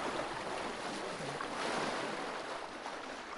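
Continuous splashing, sloshing water with a steady broadband wash as a bear swims close by in a video game, with no talking.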